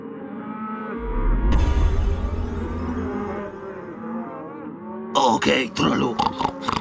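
Cattle mooing in a Wild West video game level, the herd to be roped with a lasso: low drawn-out lowing with game sound effects, then a burst of sharper clattering noises near the end.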